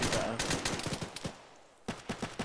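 A .50 Action Express pistol fires in the tactical shooter Beowulf, giving rapid bursts of sharp, punchy shots in a steady rhythm, briefly pausing before another volley of shots.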